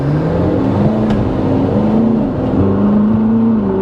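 A Ferrari 458 Spider's engine and exhaust while driving on the road, a loud continuous drone with shifting tonal pitch that rises and falls slightly as the car moves, with no talking.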